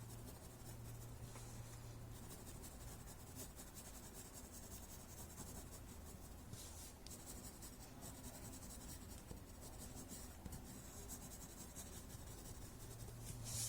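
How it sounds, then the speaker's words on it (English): Pencil graphite shading across paper makes a steady, continuous scratchy rub that holds at an even level throughout, close and alone with no voices. "So I'm going to add some graphite on both the sides."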